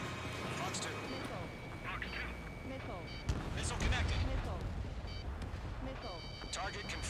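A missile strikes its target with a deep explosive boom in the aerial combat game Ace Combat 7, with radio chatter and cockpit warning tones continuing over the rumble.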